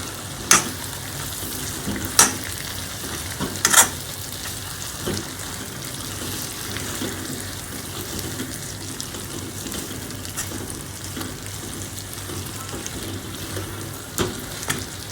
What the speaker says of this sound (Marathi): हे भरलेले वांगे याच्यामध्ये टाकून द्या आणि याला नीट मिक्स करा.